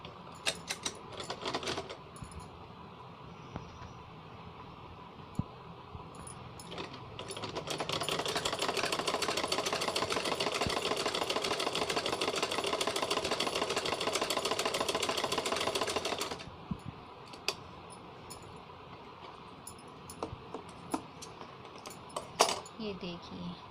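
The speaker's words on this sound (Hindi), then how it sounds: "इस तरह से मोड़ के और हम इसमें सिलाई लगा देंगे।" A sewing machine stitches a cloth face mask, running in one steady, close, continuous burst in the middle with quieter handling and clicks before and after.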